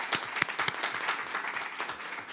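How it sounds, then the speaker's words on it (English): Audience applause for panelists at a climate adaptation session, a moderate crowd clapping steadily with distinct individual claps standing out, continuous through the short stretch. "Can we give them a round of applause, please?"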